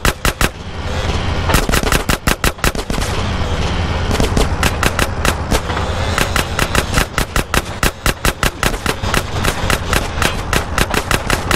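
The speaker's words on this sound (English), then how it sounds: "I'm about to pop these fools. Roll up on them, CJ, so I can get a shot." Machine gun fire in the video game GTA San Andreas during a drive-by. Loud rapid bursts of automatic shots go on with brief gaps, tightly packed and punchy, over a busy game background.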